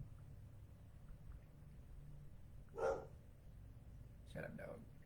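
A dog barks at a distance, one faint bark followed a second or so later by a short double bark, over a quiet background hum.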